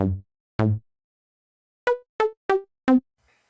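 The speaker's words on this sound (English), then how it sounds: "I have chosen a patch here in Serum that we're going to be using to create a sampled instrument." A Serum software synthesizer patch plays short plucky notes: two low tones, a pause, then four quicker higher notes, each decaying fast, with silence between.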